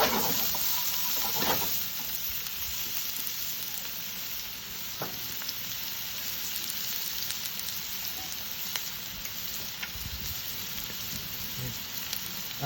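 Diced white onion sizzles and fries steadily in a pan, a continuous close, crackling hiss with small spits and stirring, no talk over it.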